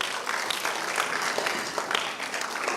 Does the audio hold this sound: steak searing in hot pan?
no